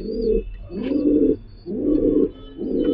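A Giribaz pigeon coos close by in four rhythmic, low throaty phrases, evenly spaced with short pauses, and no talking.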